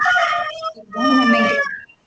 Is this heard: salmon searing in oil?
no